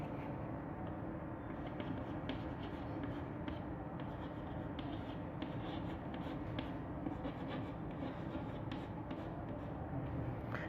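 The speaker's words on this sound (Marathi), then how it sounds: "मी आता एक 4 शब्द इथं लिहितो" Words being written on a classroom board, soft close scratching strokes in short irregular bursts over a quiet room hum, with no talking.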